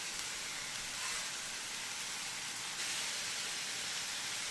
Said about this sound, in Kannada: ಇದು ಫ್ರೈ ಆಗ್ತಾ ಬಂತೀಗ